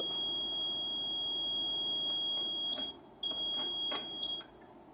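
Steady high electronic beeping tones over a low hum from an MGE UPS struggling to start, cutting out briefly and returning in short bursts, like a device repeatedly failing to power up.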